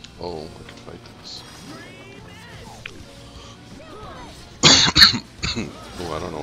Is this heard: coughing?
yes